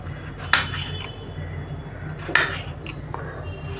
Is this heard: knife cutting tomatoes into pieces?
yes